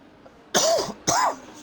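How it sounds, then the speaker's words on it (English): Two harsh, throaty coughs in quick succession from a man coming down with a cold, close to the microphone and clearly audible over a quiet background. "Sorry about the cough."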